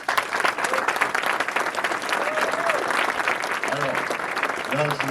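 An audience at the opening speech of the 2025 Cocagne national forum applauds steadily throughout, a dense wash of clapping hands with a few voices faintly audible beneath it.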